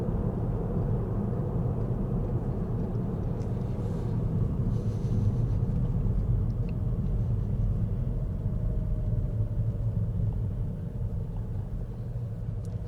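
A car driving steadily around a roundabout on a driving test practice route in Middlesbrough, giving a continuous low engine and road rumble that stays even throughout and eases slightly near the end.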